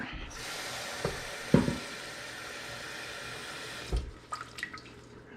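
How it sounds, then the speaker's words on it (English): Water pours into a cooking pot of French toast soaking ingredients with vanilla and honey, a steady rushing stream that stops after about four seconds, followed by a few soft clinks and drips. "And then we're gonna add some water,"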